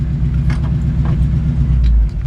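A 1966 Chevy C-10 pickup's small-block V8 engine with automatic transmission rumbles low and steady while driving, heard up close, with a deep throaty drone and slight revving.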